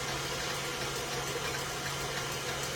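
An electric mixer whipping six room-temperature eggs for pumpkin rolls, a constant loud motor whir and hiss with a steady hum, close and uninterrupted.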